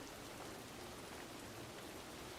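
Steady rain falls in a dense, even hiss without pause, with no voices.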